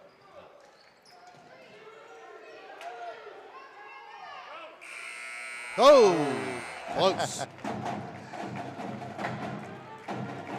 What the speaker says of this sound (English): There's your halftime buzzer.